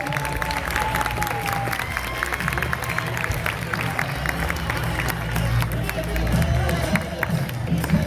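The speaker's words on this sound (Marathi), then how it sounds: "सगळ्यांनी जोरदार टाळ्या वाजवायचं आहे" A crowd at a school children's folk dance competition claps in a broad wash of applause mixed with chatter, cheering and a low rumble of movement, continuing throughout.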